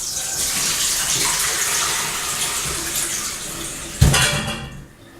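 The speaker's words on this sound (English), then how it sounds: "I'm just going to put these through the colander." Potatoes being rinsed in a colander under a steadily running tap, a broad continuous water rush at close range with a sharp clatter near the end as the flow stops.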